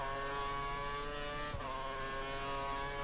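A Formula 1 car engine in the video game F1 2013 holds a steady high-pitched whine at speed, with a brief dip and rise in pitch midway, loud and continuous.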